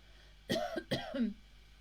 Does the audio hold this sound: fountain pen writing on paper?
no